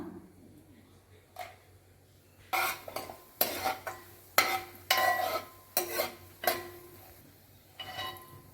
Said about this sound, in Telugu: జీడిపప్పులు ఫస్ట్ వేపుకుందాం